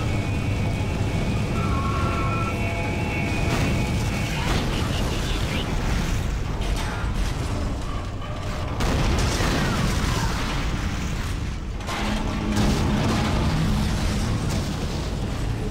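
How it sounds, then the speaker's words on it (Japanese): Spaceship explosion in the sci-fi horror video game Dead Space, heavy rumbling booms and crackling blasts rolling through a loud, dense game soundscape, with someone talking over parts of it. "アイザックの乗ってきた船が爆発してしまったということはもう帰れないじゃんっていうね。"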